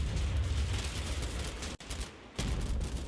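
Dense continuous gunfire in the Combat Mission Fortress Italy war game, a loud rolling barrage of shots with a brief near-silent gap before the firing resumes.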